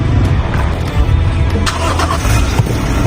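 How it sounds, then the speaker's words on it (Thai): A Toyota Fortuner or Revo SUV engine turns over and settles into a steady low rumble, heard from inside the cabin, loud and close with no talking. "เดี๋ยวผมสตาร์ทให้ฟังดีกว่าในรถ"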